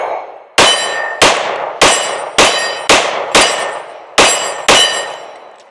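Eight sharp pistol shots from a Canik Prime handgun fired outdoors in a loose, steady rhythm, each crack loud and close with a brief ringing decay.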